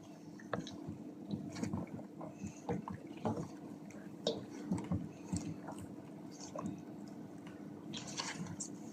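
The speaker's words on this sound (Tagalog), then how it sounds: "Mix lang natin silang lahat para manuot ang timpla doon sa ating chicken" Hands mixing chicken with a cola marinade, producing quiet, irregular wet squishing and dripping sounds, close and soft, with a faint voice now and then.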